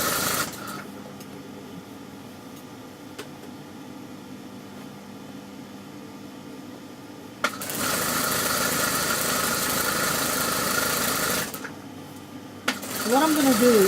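A sewing machine stitches a garment seam toward the waistline, a steady mechanical whir running for several seconds in two stretches with brief pauses and clicks between, fairly close.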